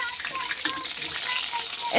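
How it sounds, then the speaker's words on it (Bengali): Steady hissing sizzle of brinjal slices frying in hot oil, with occasional crackles and a faint scrape of stirring, close by. "বেগুন ভাজা করে নিচ্ছি"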